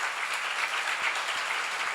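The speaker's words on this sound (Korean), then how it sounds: "박수 좀 세게 쳐요." A church seminar audience claps hands in a steady, dense patter that runs throughout, with no voices on top.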